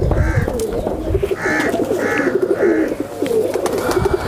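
High flyer pigeons cooing close by, several soft repeated coos in a loose rhythm with rustling and faint background noise.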